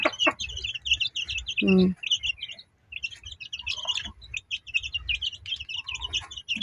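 Newly hatched chicks peep in rapid high chirping bursts while larger chickens cluck nearby as they are fed corn and mixed feed, a continuous busy chorus close by, with a soft voice murmuring briefly.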